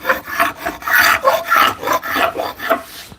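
A small blue crowbar scrapes glue that has not yet fully hardened off a solid wood tabletop glue-up. The rasping strokes repeat in a steady rhythm, close and fairly loud, with no talking.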